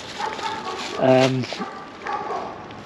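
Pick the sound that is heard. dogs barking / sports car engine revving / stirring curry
dogs barking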